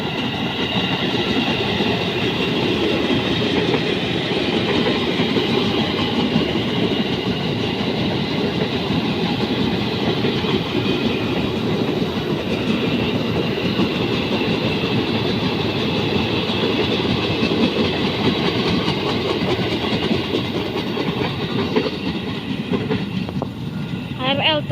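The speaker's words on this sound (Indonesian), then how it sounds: "KRL tujuan Manggarai." A KRL commuter train bound for Manggarai rolls past at night in Tambun, West Java, with a loud, continuous rumble and rail clatter that holds steady from start to finish.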